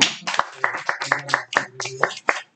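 Close, distinct hand claps ring out in an uneven but lively rhythm from a small lecture audience after a talk, with a voice speaking between and over the claps.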